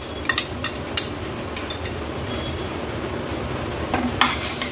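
Ground masala paste, made without onion or garlic, being stirred and fried in oil in a pan over low flame: a steady sizzle with several sharp scraping clinks of a spoon against the pan.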